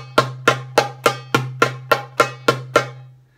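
A darbuka, or doumbek, drum is played as a split-finger technique exercise: ten crisp, evenly spaced strokes ring out close and loud over a steady low hum, with no voices.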